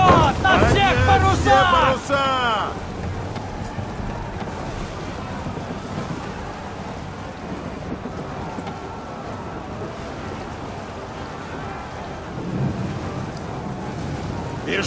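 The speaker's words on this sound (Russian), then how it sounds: "Берегись, шквал!" Storm squall at sea in Assassin's Creed III, a dense roar of wind, rain and rumbling weather sustained throughout, with a swell near the end; shouted voices and music open the first seconds.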